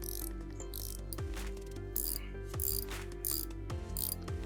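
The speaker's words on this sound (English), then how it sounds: "We'll just nip it up with a spanner for ease." Spanner ratcheting a stud into a vehicle cylinder head, close and fairly quiet, with several short clicking turns in an uneven rhythm and no talking.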